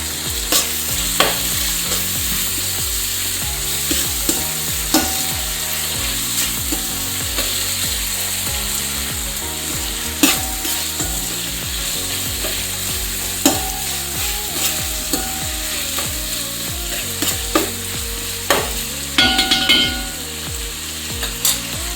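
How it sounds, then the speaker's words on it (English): Ginger garlic paste with a little salt frying and being stirred in a pot for mutton biryani: a steady close sizzle throughout, with repeated clinks and scrapes of the spoon against the metal. "Add 2 spoons of ginger garlic paste. Little bit of salt. And give it a mix."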